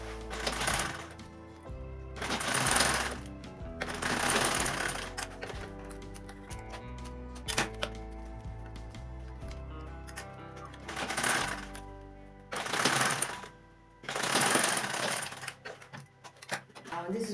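A sewing machine runs in several separate bursts while stitching the sides of a fabric shoulder bag, with the pieces placed right sides together and a half-inch seam. The bursts alternate with quieter handling noise and come across fairly close.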